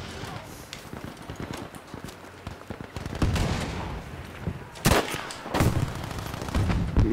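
Battlefield V combat noise: scattered distant gunshots and thuds give way to heavier, louder bursts of fire and impacts, with a chaotic battlefield din throughout and occasional speech over it.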